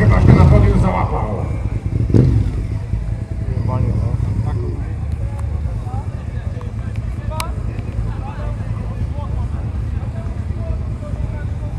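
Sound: Honda V2 1000 cc motorcycle engine with Giannelli exhaust

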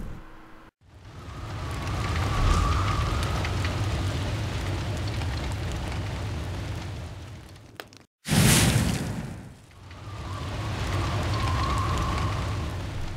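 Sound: fire burst effect in Son of Nor video game

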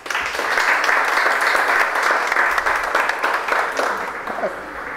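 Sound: audience applause

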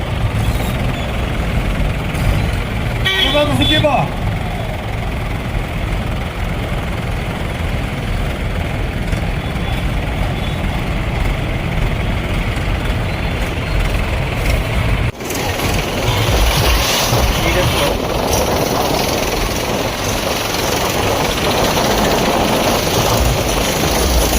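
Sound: hundred tractors in a rally procession

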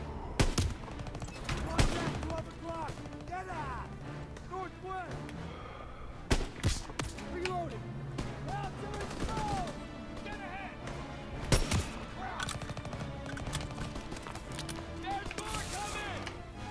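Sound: gunfire in Call of Duty: WWII video game

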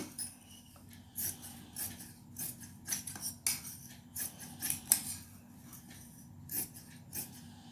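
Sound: scissors cutting extra piece of blouse fabric

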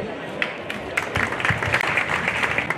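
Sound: audience applauding a band concert

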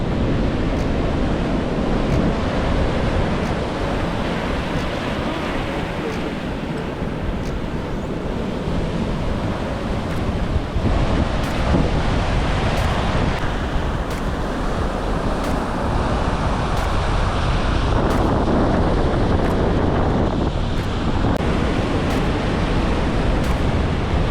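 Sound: Black Sea waves at the shore in Samsun

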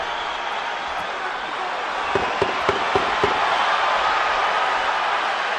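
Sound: boxing crowd urging Roman Gonzalez on

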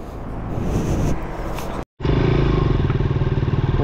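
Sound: motorcycle setting off after a tube repair

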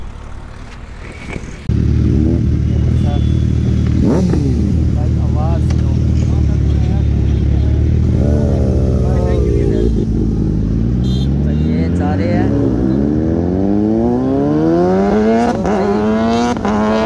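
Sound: Suzuki Hayabusa motorcycle engine revving

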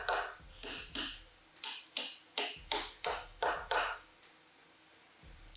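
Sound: hammer tapping bolts into a fly press

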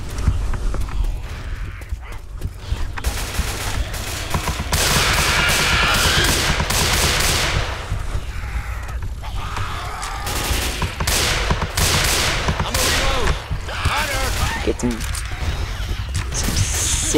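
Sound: sniper rifle gunfire in Left 4 Dead 2 video game

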